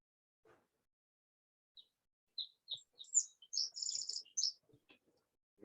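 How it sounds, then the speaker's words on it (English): Birds chirp and call outdoors in a quiet morning setting, short scattered high tweets building into a denser burst of trilling song, fairly faint and distant, with a few soft background knocks. "I can hear birds chirping"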